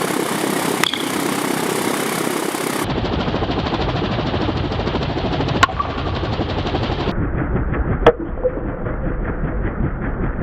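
A bat-swinging pitching machine whirs loudly and continuously while it hits baseballs hard, with about three sharp, isolated cracks of bat on ball cutting through the mechanical drone.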